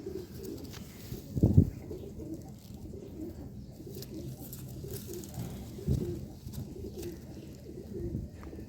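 Pigeons in a breeder's loft in Jammu cooing softly and repeatedly, a low throaty murmur with a couple of louder coos standing out near the start and middle.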